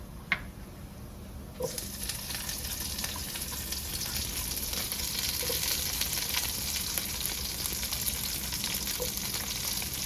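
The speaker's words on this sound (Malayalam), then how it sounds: "നമ്മുടെ വെളുത്തുള്ളി നന്നായി ചൂടായിട്ടുണ്ട് ഇനി അതിലോട്ട് നമുക്ക് ക്യാപ്സിക്കം ചേർത്ത് കൊടുക്കാം" Capsicum added to hot garlic in a pan for a chicken fry, frying with a steady soft sizzle throughout, joined by a few faint stirring clicks.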